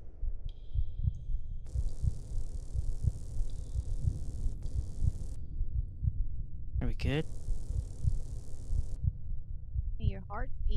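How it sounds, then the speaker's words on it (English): A slow, steady heartbeat thumps throughout while the player hides in a video game, low pulses repeating evenly beneath faint ambient tones, with a brief spoken question partway through. "Your heart beating so apparently."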